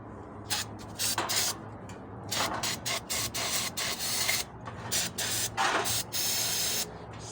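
Aerosol cleaner sprayed into the valve body chambers of a 700R4 transmission during reassembly: a series of sharp, close hissing bursts, some short and some held for a second or more, separated by brief pauses.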